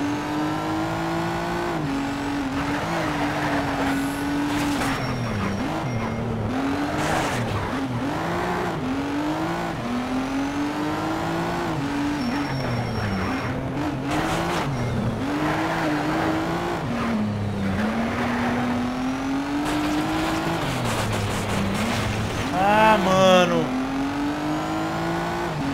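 Race car engine in the video game NFS Shift, a Nissan GT-R revving up and down through repeated gear shifts with brief tire squeal near the end, steady and loud throughout with a voice speaking over it.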